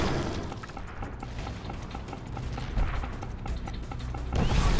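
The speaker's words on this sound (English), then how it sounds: "Prepare bombing run." A bombing run in the strategy game Command & Conquer: Kane's Wrath brings a dense rumble of booms and rapid blasts that swell louder toward the end, with game background noise and no talk.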